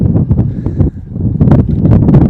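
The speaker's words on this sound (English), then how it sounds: "so Windy out there" Gusty wind buffets an outdoor microphone on a street in Huntington Beach, a loud irregular rumbling roar with rustling bursts.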